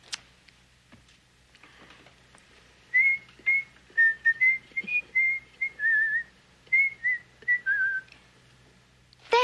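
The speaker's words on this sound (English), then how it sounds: "It was somebody whistling it." Someone whistles a short, halting melody of clear, separate notes in a quiet room, fairly close, with a little background noise.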